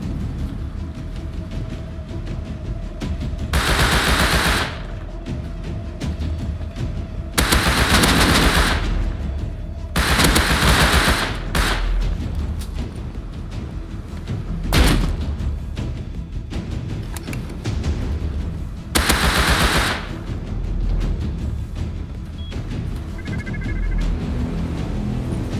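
Explosive-bullet gunfire in the survival game Rust, loud bursts of automatic fire cracking in several separate volleys across the span, with continuous background rumble between them.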